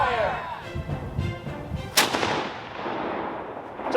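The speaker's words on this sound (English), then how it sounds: "What a cannon, guys." A cannon fires with one sharp, loud blast that rolls off into a long fading rumble, with faint shouted drill commands around it and another small crack near the end.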